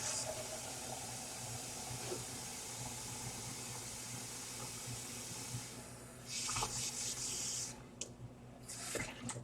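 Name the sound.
water being added to dye container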